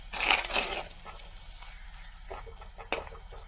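Curry leaves, spices and salt are stirred together in a frying pan, giving a soft sizzle and a few quiet scrapes, strongest at the start and then fading.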